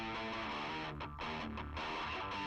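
A distorted electric guitar played through an amp emulator plays chords with a gritty, saturated tone, sustained and fairly steady, with a couple of brief dips between strums.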